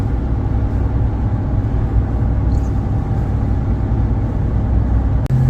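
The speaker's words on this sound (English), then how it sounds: "Tires are so noisy." Truck tires roar loudly and continuously on the road, with a steady low rumble and drone of a moving vehicle heard from inside and a brief knock near the end.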